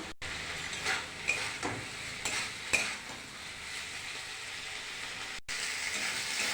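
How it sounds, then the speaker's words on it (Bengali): Cauliflower and potato are stir-fried in a pan with turmeric and a ginger, cumin and chili paste, giving a continuous sizzle broken by a few spoon scrapes and knocks against the pot, close and alone. "এবার ভালো করে কষিয়ে নেব।"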